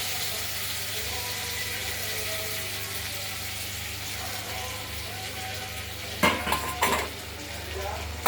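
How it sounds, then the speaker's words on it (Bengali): Tomatoes with ground spices and turmeric fry with a steady sizzle in a pan, a constant close hiss, with a few brief clatters of a utensil against the pan near the end. "ভাজা হতে থাকুক।"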